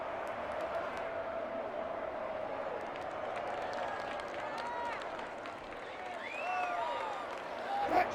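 A stadium crowd roars and applauds in Madden 21 as the team clinches a Super Bowl berth, a steady wash of cheering with whistles rising over it, and commentators talking throughout.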